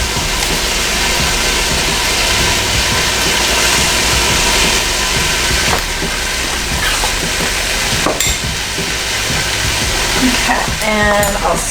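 Ingredients for a vegan lentil, collard and sweet potato dish being stirred in a pan on a stove, with a steady close scraping and sizzling that runs without a break and a faint voice low in the background.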